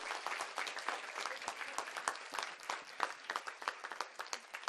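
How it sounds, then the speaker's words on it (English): An audience applauds after a Kuchipudi dance debut performance, steady dense clapping from many hands at moderate distance, continuing throughout without talk. "Give her a big round of applause."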